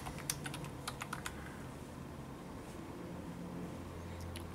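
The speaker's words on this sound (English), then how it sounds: "Click on the start button and inside the search box type in device manager" Someone types on a computer keyboard, entering a search into a Windows start menu: a quick burst of light, close clicks early on, then quiet with only faint background hum and no talking.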